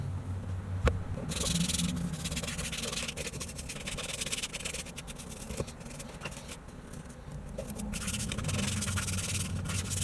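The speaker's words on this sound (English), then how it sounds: "grab a microfiber cloth and wipe until dry" A microfiber cloth wipes down a car interior, making a steady, close, scratchy rubbing that runs for the full ten seconds with small swells in pace and no talking.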